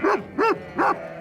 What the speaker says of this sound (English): The dogs bark nonchalantly.